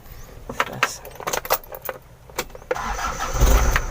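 A Mitsubishi 4DJ2 diesel engine, hard-starting until its fuel filter was changed, cranks after a jangle of keys and fires into a steady close idle.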